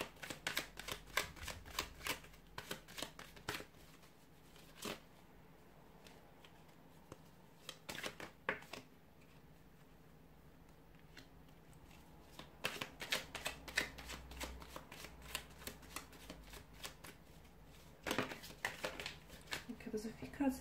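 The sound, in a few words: shuffling tarot cards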